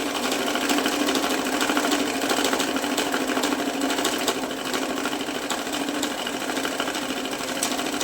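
A Pioneer dual CIS currency counting machine whirs steadily as it counts a stack of mixed 100, 200 and 500 rupee notes, making a dense, continuous flutter of paper with no pauses.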